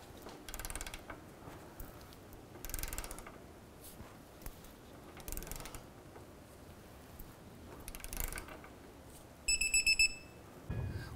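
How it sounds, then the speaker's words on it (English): A torque wrench tightening the lower rear shock bolt on a 2007-17 Jeep Wrangler, short bursts of ratcheting clicks repeating every few seconds, ending in a sharper clicking burst, close and fairly quiet. "I'm going to go ahead and torque down this lower bolt to 65 foot-pounds."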